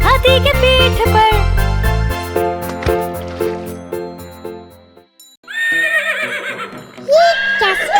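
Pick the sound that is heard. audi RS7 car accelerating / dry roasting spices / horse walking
horse walking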